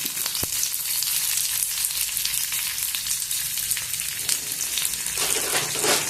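Garlic, curry leaves and green chillies frying in hot oil in a pan, a loud continuous crackling sizzle with a brief sharp click early on and the hiss swelling slightly toward the end.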